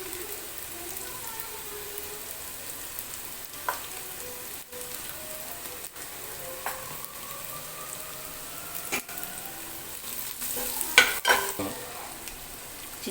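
Onions being stirred in a pan with turmeric and spice powders for Pallipalayam chicken, a steady soft frying hiss broken by intermittent scraping stirs and a few louder clatters near the end, with no voices.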